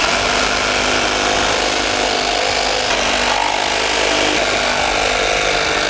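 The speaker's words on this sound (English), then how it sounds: "we'll get a measurement and cut these rails to fit" Power saw cutting metal fence rails, a loud continuous close-up cutting roar lasting throughout with no voices.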